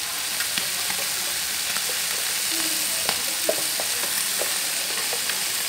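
Sea snails stir-fried in a hot pan with lemongrass and chili, a steady close sizzle with light scraping and clicks of stirring throughout, no voices.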